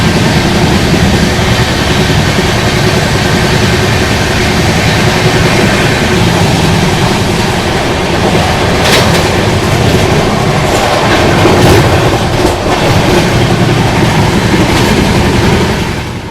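A Vande Bharat train eases slowly into Godhra station, which sits on a curve. The running noise is loud and continuous, with rail clatter and scattered clicks from the wheels and no voices.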